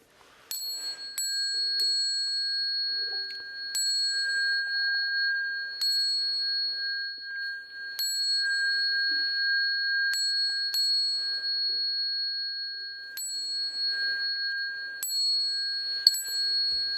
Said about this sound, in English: I'll ring the bell and we can bow to the Buddhas together.